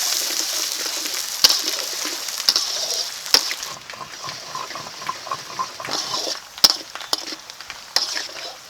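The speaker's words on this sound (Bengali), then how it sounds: "এখন দিয়ে দিচ্ছি পেঁয়াজ পেঁয়াজটা এখন ভালো করে ভেজে নেবো" Onions fry in oil in a pan with bay leaves, whole garam masala and cumin, making a steady close hiss and crackle broken by a few sharp clinks of a spatula.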